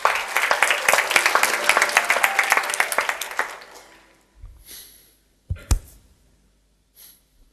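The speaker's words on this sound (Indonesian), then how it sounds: "Tepuk tangan." A church congregation at a sermon breaks into brisk, loud applause that holds for a few seconds, then tapers off, leaving a few isolated clicks and thumps in near quiet.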